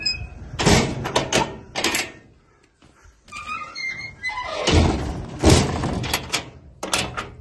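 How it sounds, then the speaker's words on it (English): Rear doors of an Ifor Williams TA510 12 livestock trailer being swung and shut, several loud metallic thunks and clanks spaced apart with a short quiet gap between them. "No hammer needed to shut the doors, they're just perfectly in line."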